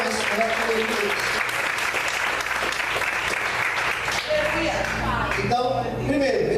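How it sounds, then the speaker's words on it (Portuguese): A church congregation applauds loudly and steadily throughout, with a preacher's voice heard over the clapping and music. "Aplauda o Senhor mais forte, queridos."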